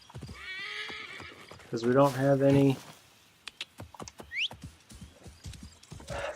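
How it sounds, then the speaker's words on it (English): A horse whinnies in Assassin's Creed Origins, a short neigh followed by soft clip-clop hoofbeats as it approaches and walks, with someone talking over and around the game sounds. "let's call our horse and go on our way"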